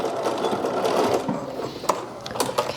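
A home sewing machine stitches a 3/8 inch seam along a fabric tie for a wrap apron style dress, running in a steady close whir, with a few clicks and a slight slowdown near the end, and no talk.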